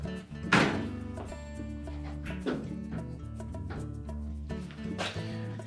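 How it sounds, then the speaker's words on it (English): A Whirlpool range oven door closes with a few dull thunks spaced seconds apart over steady background music. "as you close the door, it should come to a stop right about here"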